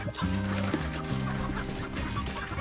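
Native hens crowded inside a farm shed cluck and chatter continuously, several birds overlapping close by in a dense, restless chorus.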